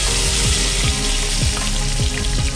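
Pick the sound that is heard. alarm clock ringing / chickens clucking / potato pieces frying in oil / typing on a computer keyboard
potato pieces frying in oil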